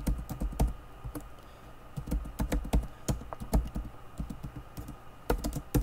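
Fingers type on a computer keyboard in quick, irregular bursts of close, crisp key clicks with short pauses between them, and no voice over the typing.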